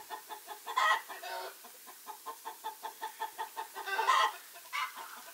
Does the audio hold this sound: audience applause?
no